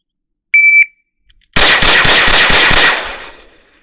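A shot timer beeps, then a Glock pistol fitted with an Advantage Arms adapter fires a fast bill drill: a rapid string of about six sharp, loud shots that fade into ringing echo.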